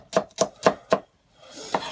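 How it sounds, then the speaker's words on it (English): A kitchen knife slicing through onions on a cutting board, four crisp evenly spaced chops followed by a softer scrape, close and clear with no talking. "we're just going to slice up some onions for this"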